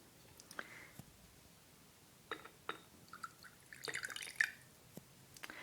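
Chamomile tea is poured during a quiet spa-style roleplay, heard as faint, close trickles and scattered drips with small glassy clinks amid soft background hush.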